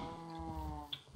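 Cows low in a farming video game with one short, close moo carrying a wavering tone, followed by a couple of brief clicks.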